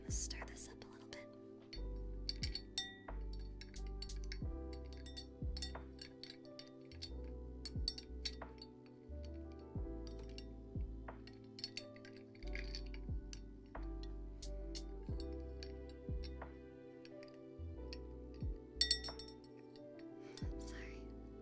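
A spoon stirs a drink in a glass at a bar, with quick soft glass clinks and ticks running over a low steady background and whispered talk throughout.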